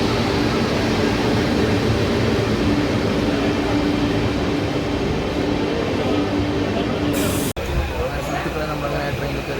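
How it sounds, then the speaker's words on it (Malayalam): A loud, continuous rumble of a train approaching a station in Ernakulam fills the air, steady and heavy, with a brief break near the end. "ട്രെയിൻ വരുന്നുണ്ട്"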